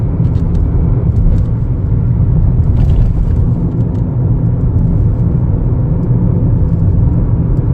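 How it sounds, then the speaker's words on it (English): 2025 Chevrolet Equinox LT cruising at 45 mph, heard from inside as a steady, loud low rumble of road and engine noise with no breaks. "Has a lot of pickup, goes really quick, going 45 now. Drives super nice."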